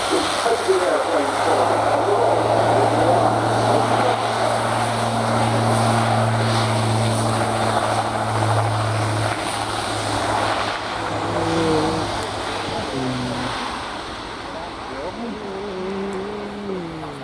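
A German Air Force Airbus A400M Atlas turboprop transport drones loudly overhead during a tactical flying display, steady low engine hum, the pitch bending downward as it passes, while a voice speaks over it.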